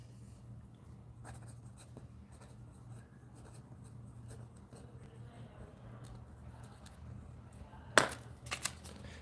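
Handwriting with a pen on paper, a soft continuous scratching close by over low background hum, ending in a sudden sharp clatter.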